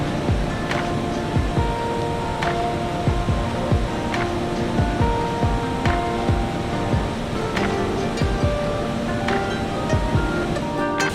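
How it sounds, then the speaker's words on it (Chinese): Victoria Falls roars as a steady, dense wall of rushing, crashing water, loud and continuous throughout with no talk. "维多利亚瀑布号称世界第3大瀑布"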